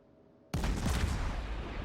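Warship main guns fire in World of Warships aboard the cruiser Molotov: a sudden loud salvo bursts in after near-silence, then a dense, rumbling roar sustains to the end.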